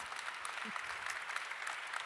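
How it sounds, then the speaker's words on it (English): Sustained, even applause from a conference audience at a European cooperation event, heard at moderate distance throughout with a brief vocal sound early on. "They did, so they deserve applause."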